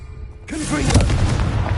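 A Confringo blasting spell explodes in Hogwarts Legacy, one sudden booming blast that rolls out and lingers, loud and close, with a spoken incantation at the start.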